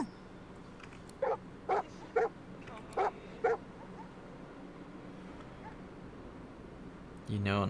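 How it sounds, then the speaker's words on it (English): Hellhounds in the video game Divinity 2: Definitive Edition let out five sharp, evenly spaced barks over a low background drone, followed by a brief louder burst of game sound at the end. "Holy hellhounds. Those dogs sound out for blood."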